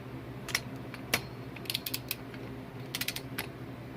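A ratchet on a foot-long 1/2 inch drive extension tightens ATV bolts, giving quiet, irregular clicks in short bursts over a steady low hum.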